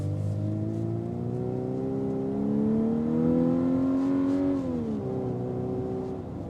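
A 2025 Volkswagen Atlas SEL with turbo lag accelerating, its engine note climbing slowly in a steady rising drone heard from inside the cabin, dipping briefly as it shifts, then pulling on.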